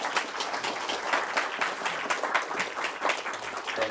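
An audience applauds after a lecture by a Democratic Party woman lawmaker, with steady, dense clapping from many hands filling the room evenly throughout, with no voices over it.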